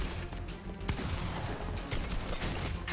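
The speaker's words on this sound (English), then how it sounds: "Oh, stop shooting me!" Rapid gunfire in a Fortnite box fight, dense overlapping bursts of shots filling the whole stretch at moderate loudness, no voices.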